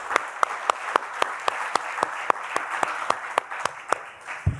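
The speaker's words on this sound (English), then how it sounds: "Round of applause for our panelists" A small audience at an angel investment showcase gives panelists a short round of applause, with a few sharp, distinct claps in a steady rhythm, close and fairly clear, tapering off at the end.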